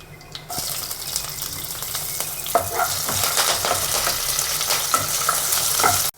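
Chopped green chillies, added after dried red chillies, hit hot oil in a pan for an aloo curry and sizzle and crackle loudly, with scattered pops and stirring scrapes throughout and no talk.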